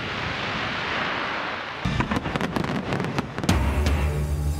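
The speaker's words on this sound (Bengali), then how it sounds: "চীনের হুনান প্রদেশে আন্তর্জাতিক আতশবাজি উৎসব" Fireworks at an international fireworks festival in Hunan province, China: a hiss of ambient crowd noise gives way to a rapid cluster of sharp bangs and crackles, then a deeper sustained rumble of bursts, moderately loud and distant.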